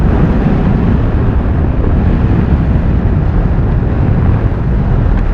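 Loud, steady wind roar and buffeting against a helmet while riding a Triumph Tiger Sport 1050 motorcycle on worn tyres, a dense low rumble that stays constant throughout with no talk.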